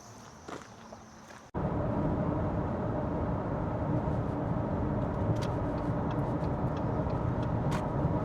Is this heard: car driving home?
yes